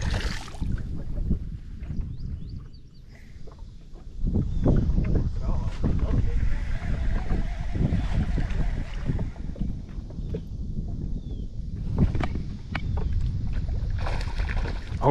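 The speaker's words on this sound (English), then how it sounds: "this wind done got started up" Wind gusting across a reservoir buffets the microphone in a steady low rush, with brief lulls and hollow knocks, as if from a small boat on the water.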